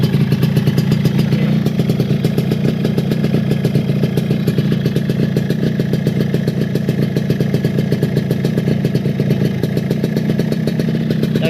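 Two-stroke motorcycle engine running with a programmable CDI ignition, a loud, steady, close-up buzzing idle with rapid even firing pulses throughout and no speech.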